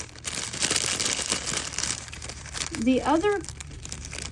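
A sheet of glitter flake craft material crinkling and scrunching in the hands during a resin and DIY craft demonstration, a steady papery rustle under a person speaking.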